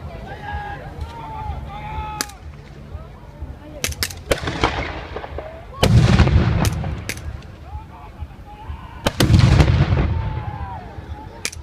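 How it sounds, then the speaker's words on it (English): Military mortars of the South African army fire during a public display at an Easter show, sharp booming reports with trailing rumble at a distance, several blasts amid crowd noise and a public-address voice talking. "Please, once again, take care of your ears as the mortars come into action."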